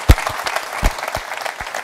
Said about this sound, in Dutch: Ja, een warm applaus graag.